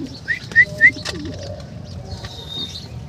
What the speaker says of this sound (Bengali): একজোড়া মুখী কবুতর দর্শক দেখেন